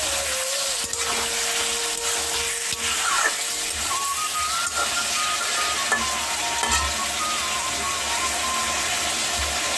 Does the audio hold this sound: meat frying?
yes